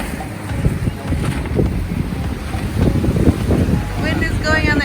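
Strong wind rushes over a sailboat running fast under a parasail on the open North Atlantic, steady and loud throughout, with water noise and voices talking beneath it.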